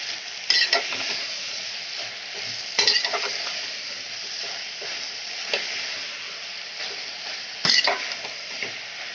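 Coarsely chopped tomatoes going into a goat intestine curry in a hot pan, a continuous close sizzle broken by a few sharper stirring clinks and scrapes of a utensil against the pan, with no talk.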